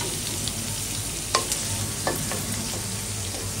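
Pangas fish frying in a hot pan of oil, a loud continuous sizzle and crackle close by, with a couple of brief spatula scrapes against the pan partway through.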